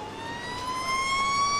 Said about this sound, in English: I like the sirens over here.